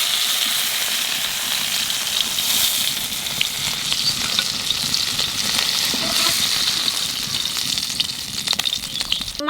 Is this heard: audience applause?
no